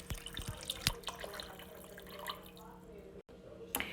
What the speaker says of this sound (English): Lastly, I add about the same 16 ounces of water